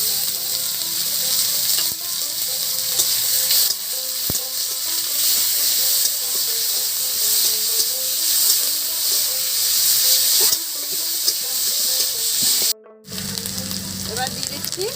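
Onion paste hits hot oil in a village-style catfish curry, producing a loud, close, hissing sizzle that runs steadily with brief dips and a short cut near the end.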